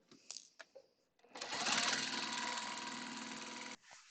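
A sewing machine stitches a quarter-inch quilt seam in one steady, continuous whirring run of about two seconds, preceded by a few soft handling clicks and taps.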